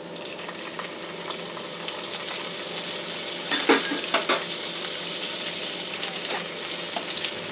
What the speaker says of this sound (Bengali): মশলাটা 2-1 মিনিট একটু কষিয়ে নেব। তেল ছাড়া পর্যন্ত একটু অপেক্ষা করব।